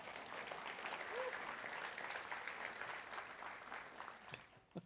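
A church congregation at a contemporary United Methodist service claps together in a steady burst of applause that fades away toward the end, heard from within the room with no talk.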